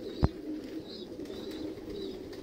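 Domestic pigeons coo softly among a breeder's club birds, low, steady murmuring calls close by, with one sharp brief knock early on.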